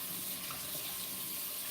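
Tap water runs steadily into a sink while a cat's food bowl and water dish are washed, a constant close splashing hiss with no pauses.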